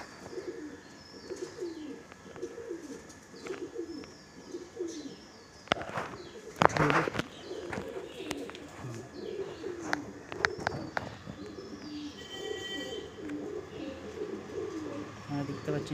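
Kalanka-line pigeons coo softly in a loft, low throaty coos repeating under background voices, with a brief burst of rustling and flapping midway.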